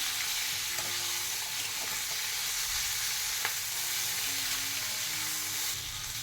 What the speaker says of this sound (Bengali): আদা কুচি এবার একটু নেড়ে দেবো।